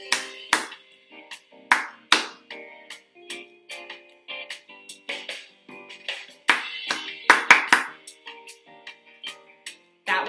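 Sharp hand claps in short rhythmic patterns during a music lesson, loud and close, with brief gaps between phrases where patterns repeat.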